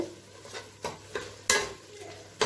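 Masala sautéing in oil for a mutton dish, a spoon scraping and knocking against the pan in several sharp strokes over a low, continuous frying hiss, with no voices.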